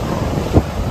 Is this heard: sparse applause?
no